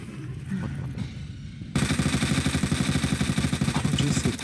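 Gunfire in the video game Resident Evil 2 breaks in abruptly after a quieter stretch, becoming loud rapid repeated shots in a steady rhythm that continue to the end.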